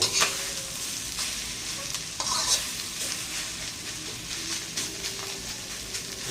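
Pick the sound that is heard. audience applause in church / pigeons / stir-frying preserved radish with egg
stir-frying preserved radish with egg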